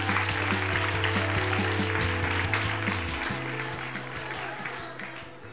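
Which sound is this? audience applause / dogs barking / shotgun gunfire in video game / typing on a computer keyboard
audience applause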